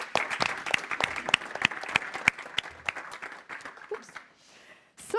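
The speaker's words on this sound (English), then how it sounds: "Big applause." Loud applause from an audience, dense clapping that fades out near the end before a brief burst resumes.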